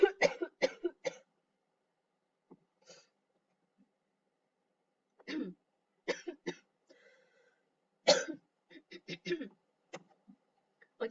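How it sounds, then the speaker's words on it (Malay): Several short coughs and throat-clearing bursts in clusters, separated by quiet pauses, close to the microphone. "Sorry, saya nak batuk."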